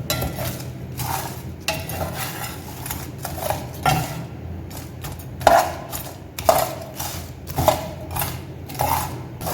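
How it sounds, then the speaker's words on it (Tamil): Garam masala spices being sautéed in a pan over a low flame, with steady scraping and stirring strokes and a few sharper clinks of the spoon against the metal, close up and alone. "சும்மா ஸ்லிம்லேயே வச்சு வதக்கணும்."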